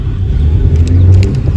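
A groom's car in a village wedding procession, its engine a steady low rumble close by, running continuously with a slight rise in revs and no talk over it.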